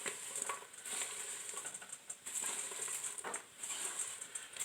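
Chopped onions for a traditional 18th-century French onion soup tumble into a pot in a run of close, soft pattering and rustling scrapes, with no one speaking.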